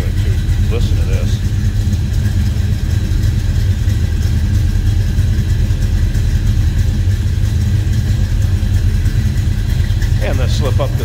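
A 1964 Chevrolet El Camino with an SS-style hood idles in a continuous, loud, steady engine rumble for the whole stretch, close by and even throughout.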